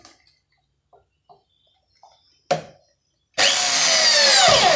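A few faint taps and knocks lead into a sharp close burst, then a power tool bites into the bottom of a PVC pipe water filter with a loud, steady grinding whir that runs to the end.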